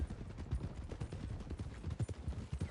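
Horse hooves clip-clop in a steady walking rhythm through a town in Red Dead Redemption 2, low and fairly close, with soft game ambience around them.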